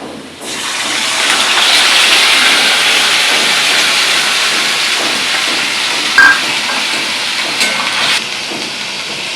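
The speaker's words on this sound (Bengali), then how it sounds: "আলু ভাজা হয়ে গেছে এখন ডুমুরটা দিয়ে দিচ্ছি" Indian figs are tipped into a pan of frying potatoes and set off a loud, steady, close hissing sizzle that lasts throughout. No voices.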